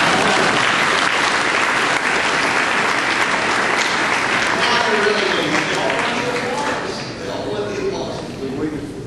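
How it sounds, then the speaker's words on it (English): An audience at a political forum claps for a woman in the crowd, a loud, sustained wash of applause that thins out toward the end as a voice begins to come through. "Give her a round of applause"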